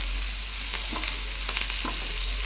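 A spoon stirring a radish mixture in a pan on the stove, a few soft scraping strokes over a steady background sizzle, close and fairly quiet.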